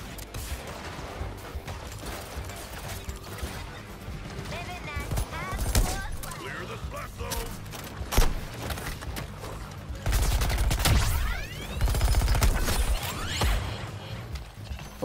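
Sniper and other gunfire during a fight in Suicide Squad: Kill the Justice League, scattered shots and heavier bursts among mechanical combat noise, with a louder sustained barrage near the end and a voice talking over it.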